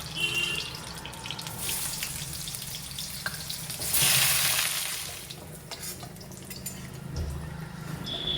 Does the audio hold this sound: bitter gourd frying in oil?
yes